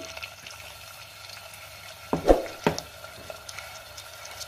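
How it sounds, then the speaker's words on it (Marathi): A soft background sizzle of frying, broken by a couple of sharp clatters and splashes as minced chicken drops into hot oil. "आता हा चिकन खिमा तेलामध्ये घालते."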